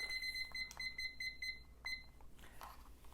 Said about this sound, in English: You set your timer for 15 minutes.